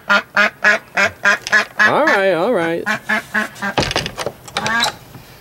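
Ducks quack in loud, rapid repeated bursts beside a backyard duck house, with honking calls mixed in and a person speaking briefly over them.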